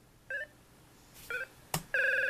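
Electronic ring-in tones from the Jeopardy! Junior Edition game on the NES, several short beeping bursts spaced apart and then a longer sustained buzz, fairly faint and clean with no talk.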